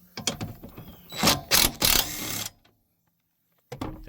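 A hand ratchet with an 18 mm socket works a seat bolt loose on a Chevrolet Silverado, giving rapid, close clicking bursts for a couple of seconds before falling silent, then a brief clatter at the end.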